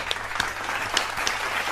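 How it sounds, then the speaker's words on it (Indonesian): Brief, modest clapping from a small audience at a casual game and magic show, a few scattered claps at fairly close range over a low background hum. "Tepuk tangan dulu, dikit aja."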